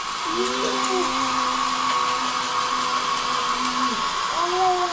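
A hair dryer blows a child's wet hair, its steady whine and airflow hiss running throughout while a voice speaks and calls briefly over it.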